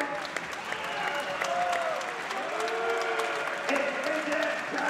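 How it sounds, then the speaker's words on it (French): Audience applauding loudly at a French cup semi-final event, sustained clapping from a crowd with a voice speaking over it and some tonal sounds weaving through. "je vais vous demander d'applaudir très fort"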